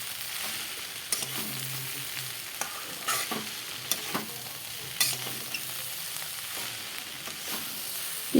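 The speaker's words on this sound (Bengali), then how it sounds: "পেঁয়াজ লঙ্কাগুলো দিয়ে কিছু সময় নাড়াচাড়া করে দিয়ে দিলাম।" Onions and green chillies sizzling in hot oil in a pan while being stirred for a vegetarian soybean dish, a steady close sizzle broken by repeated scrapes and clinks of a spatula against the pan.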